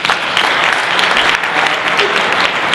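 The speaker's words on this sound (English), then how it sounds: "I'll give you a round of applause for it" A breakfast panel audience breaks into loud, sustained applause, a dense and even wash of many hands clapping close by with no pauses.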